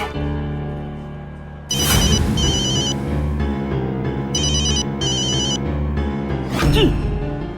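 A phone ringtone plays loudly and repeatedly, with bursts of high electronic melody and a low musical backing, ringing on for several seconds.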